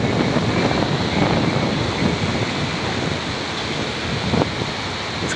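Gusty wind blows during a drone flight near trees, buffeting the microphone with a loud, continuous rushing roar that stays steady throughout.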